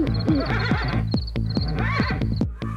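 A horse neighs in repeated loud, shaky whinnies close by, with sharp clip-clop knocks between the calls.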